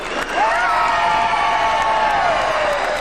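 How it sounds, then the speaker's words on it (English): A theme-park show audience at the Animal Actor Stage, Universal Studios Florida, 1994, erupts into loud, sustained screaming and cheering. High voices rise and hold in a long shrill wave over the crowd roar. "I want to hear everybody scream!"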